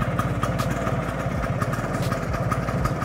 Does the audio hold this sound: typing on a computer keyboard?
no